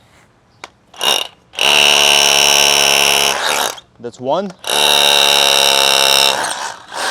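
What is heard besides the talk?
rotary hammer drill drilling concrete block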